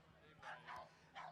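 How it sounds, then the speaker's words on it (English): English bulldogs bark in short, muffled bursts during bulldog races at a racetrack, three quick yaps over a low background hum. "We have a lot of barking going on down here"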